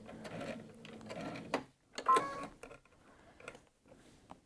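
A domestic sewing machine stitching a jacket collar, running in short bursts with pauses and reversing for backstitches, quiet and close.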